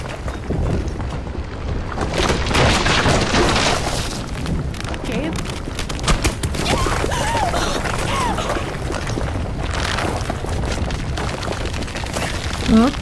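Heavy booming explosions and crashing debris in Life is Strange: True Colors form a dense, rumbling roar that continues throughout. A voice talks over the din.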